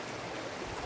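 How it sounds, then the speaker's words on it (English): Running water where two rivers meet, a steady broadband rush of flowing water, continuous and fairly loud with no breaks. "This is our river here. They're just running water."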